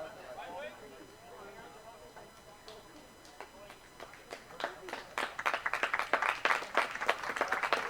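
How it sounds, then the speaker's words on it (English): PEI supporters clapping at a U18 boys soccer match as a substitution is made, applause building from scattered claps into a denser, louder patter, with a commentator's voice underneath. "Love the PEI fans clapping each time there is a substitution."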